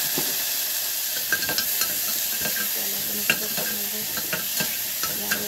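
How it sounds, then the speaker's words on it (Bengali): Chopped tomatoes fry in a pan with a steady hiss, and repeated scraping stir knocks come at irregular intervals. The sound is close and moderately loud, with no talking. "টমেটোটা ভেজে নেবো"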